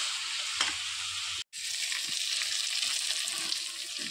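Ridge gourd, potato and broiler chicken sizzle steadily in a pan while being stirred, a dense close frying hiss with a brief break in the middle.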